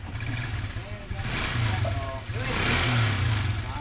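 A repaired motorcycle engine runs after starting, a steady low chugging idle close by in a repair shop, partly under a voice.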